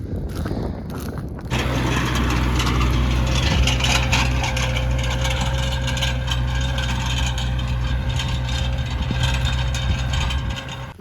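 A tractor engine idles steadily and loud nearby after a brief start, with a constant low rumble and faint mechanical rattling and scraping over it, no talk.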